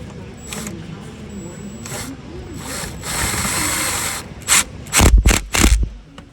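10 mm thermostat bolts on a 2009 Chevy Malibu are tightened with a swivel, giving close, loud bursts of mechanical whirring and rasping, then several sharp, rapid spurts at the end.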